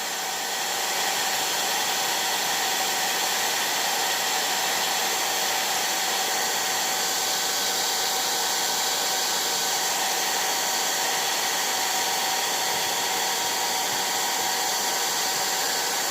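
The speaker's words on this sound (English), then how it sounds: "you take the heat gun again. And then hit it with some heat" A heat gun blows hot air onto talon grips with a steady, loud, unbroken whoosh and whine that holds at an even level throughout.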